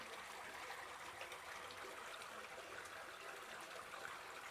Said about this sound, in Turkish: Gördüğümüz dağın dibinden çıkıyor bu. Mis gibi kaynak suyu.